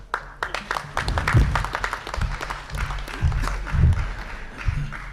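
An audience at a stage event claps steadily for several seconds, the applause swelling and easing with a few heavier low thumps mixed in.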